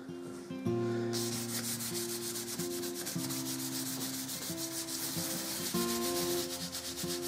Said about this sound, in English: Just a bit more light sanding.